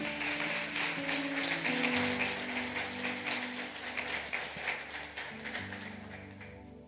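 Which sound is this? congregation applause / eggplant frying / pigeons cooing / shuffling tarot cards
congregation applause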